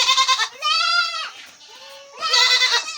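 Osmanabadi goats crossed with Boer goats bleating on a farm, two or three loud, close, wavering bleats in quick succession with no talking.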